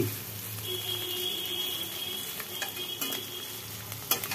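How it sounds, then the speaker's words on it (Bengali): Bitter gourd chachchori stirred with a spatula in a pan, a steady close sizzle of frying with a few light scraping strokes and clicks near the end, with no voices. "একটুখানি খুন্তি নাড়ি।"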